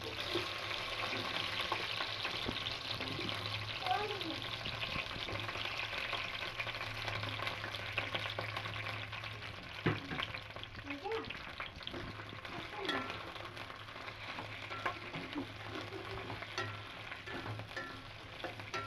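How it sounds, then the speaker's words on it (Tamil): Cut okra (ladies finger) fries in hot oil, a dense continuous sizzle and crackle close by with occasional stirring scrapes, running steadily throughout without talk. "அந்த வெண்டைக்காய் கழுவி கட் பண்ண வெண்டைக்காவை இந்த எண்ணெயில் சேர்த்து நல்லா ஃப்ரை பண்ணு"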